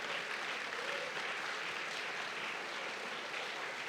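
Church congregation applauding during a worship service: steady, dense clapping from many hands, moderately distant and even throughout, with no voices over it.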